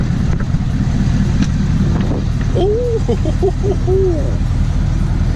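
Ford 6.7 Powerstroke diesel truck fitted with a non-VGT turbo, driving with a constant heavy low rumble heard from inside the cab, with a brief whistling tone rising over it midway and a short exclamation from a voice.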